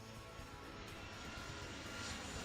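A jet aircraft speeds up along the runway in Airport Madness 3, a steady, dense roar holding level throughout with no pauses and no voices.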